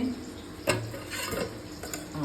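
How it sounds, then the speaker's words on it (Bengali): Vegetables for a curry frying in a pan in a home kitchen during a family celebration, a steady close sizzle with stirring and a sharp clink of utensil on pan, no talk. "আর এদিকে তরকারি সব ভাজাভুজি চলছে"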